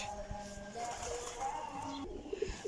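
Old Kasuri pigeons coo softly in short, faint, low calls against quiet background noise, with a few brief sounds near the end.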